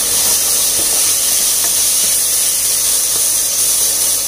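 Grated ginger and vegetables sautéing in a pan for rava upma, a loud continuous hissing sizzle with no talk over it.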